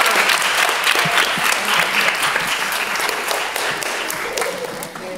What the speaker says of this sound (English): So can we grab a round of applause,